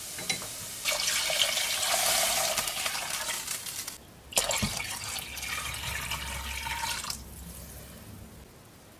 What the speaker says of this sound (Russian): Так, и сюда я сейчас добавляю воду.